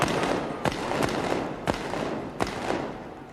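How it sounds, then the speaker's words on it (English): Several sharp blank shots from a Royal Navy field gun crack out during a 1988 field gun competition run, four distinct bangs spaced unevenly over a steady crowd roar. "Fire the gun."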